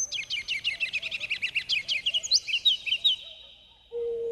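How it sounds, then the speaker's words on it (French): A kinglet sings a rapid series of high, bright chirping notes that run into a fast twittering trill, close and clear, then stops abruptly before a brief steady tone, with no talk. "Le roitelet"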